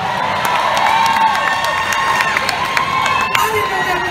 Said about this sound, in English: Can you give God a round of applause?